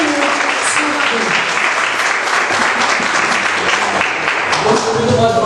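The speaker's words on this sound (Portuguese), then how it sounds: "Eu gostaria que os irmãos dessem uma linda salva de palmas para glorificar o nome do Senhor Jesus" A church congregation claps together in loud, sustained applause, a dense steady patter from the room that continues for several seconds.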